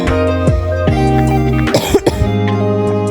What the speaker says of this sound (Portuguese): E desculpa pela tosse também, é que eu tô um pouquinho doente